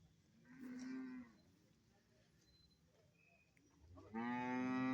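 Cattle and buffalo calves at a livestock market: two loud, close drawn-out moos, separated by quieter crowd murmur with faint voices in the background.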